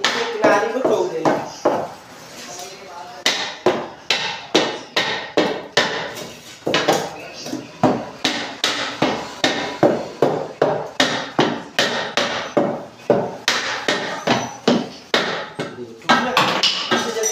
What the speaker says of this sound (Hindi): किनारे को ठोक देना